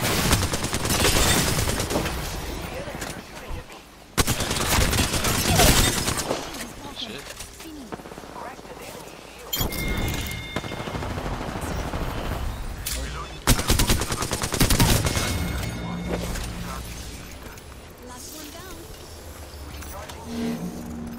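Heavy bursts of gunfire and rapid shooting fill the scene, loud and close, with machine-gun-like volleys repeating in waves across the whole stretch and brief lulls between them.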